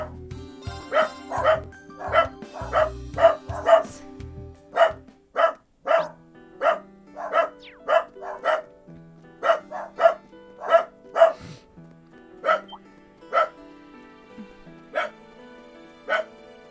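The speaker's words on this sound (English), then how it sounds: "Scooter started barking, which set off Harley." Two dogs, Scooter and Harley, bark over and over in sharp, loud, close barks at a steady quick rhythm, with an occasional yip, and no voices between the barks.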